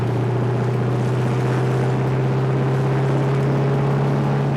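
A 1963 Dodge 330 with a Max Wedge V8 pulling in fourth gear at low revs. It makes a deep, steady, loud droning rumble that holds constant, heard from inside the car.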